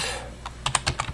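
Quick keystrokes on a computer keyboard, a short burst of close, distinct clicks in an uneven rhythm, heard alone in a quiet room.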